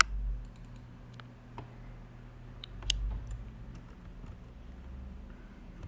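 A computer mouse gives a few sparse, faint clicks over a quiet room hum, with the clicks spaced irregularly.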